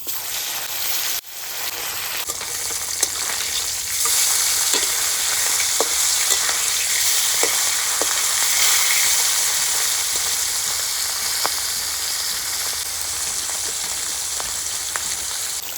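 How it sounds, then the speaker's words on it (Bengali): Silver carp fish fry in hot mustard oil in a kadai, making a loud, steady, hissing sizzle throughout with occasional small pops and crackles. "তেল গরম হয়ে গেছে মাছগুলি বেজে নেব"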